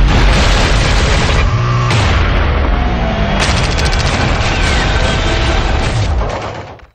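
Loud, continuous barrage of gunfire and heavy booms, dense and sustained for several seconds before fading out at the end.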